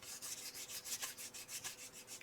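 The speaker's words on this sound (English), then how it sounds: "and you just rub it in well" Steady, rhythmic rubbing strokes as glaze is worked by hand into an inked, oxide-hazed mixed-media paper tag, a close, soft swishing repeated back and forth several times with no talking.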